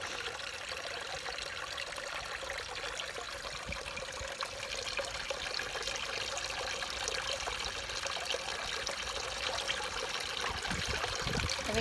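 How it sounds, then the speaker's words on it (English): Garden pond waterfall with a clogged filter, running weakly and giving a steady, close trickle and splash of water that carries on unbroken throughout. "the waterfall is barely working"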